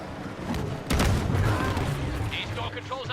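Grenade launcher explosions in the video game Star Wars Battlefront 2, a dense run of booms and gunfire crackle that thickens after the first second, with a voice talking over the battle.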